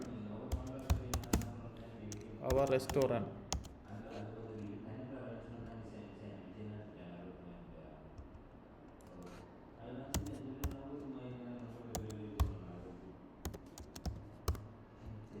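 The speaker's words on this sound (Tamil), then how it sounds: "இதில் வந்து நான் டைப் பண்ணுறேன்" Computer keyboard typing clicks along under someone talking in Tamil, with rapid bursts of keystrokes and a denser flurry early on, then scattered taps and clicks continuing at close range.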